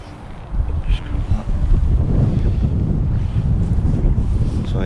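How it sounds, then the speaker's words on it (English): Strong gusting wind by a lake rumbles and buffets against the microphone in a continuous loud roar, with faint lapping water beneath. "So yeah, it's pretty wild and windy"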